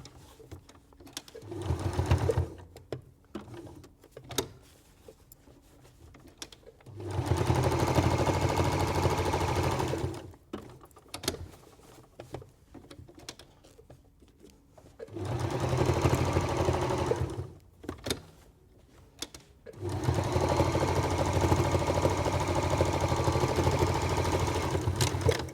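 A domestic sewing machine quilts along the lines of fabric oven gloves, running in several sustained bursts of fast, even stitching separated by short pauses and faint handling clicks.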